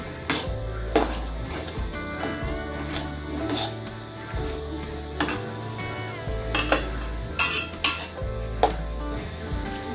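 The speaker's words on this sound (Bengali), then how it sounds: "একটু ভালো করে ভেজে নেবো, তাহলে কাঁচা একটা গন্ধ সেটা থাকবে না" Rajma (kidney beans) frying in oil in a pan, a low sizzle under repeated metallic clinks and scrapes of a spoon stirring against the pan, the knocks coming in irregular bursts.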